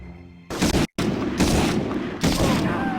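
Sniper rifle fire in the original Medal of Honor video game: a few sharp broadband blasts with short echoing tails, one clean crack followed by a brief cutout, then two more reports over a steady background din.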